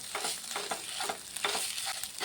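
Grated potatoes with cumin powder are mixed in a hot pan: a low sizzle runs underneath rhythmic scraping strokes that repeat roughly every half second, close and fairly quiet.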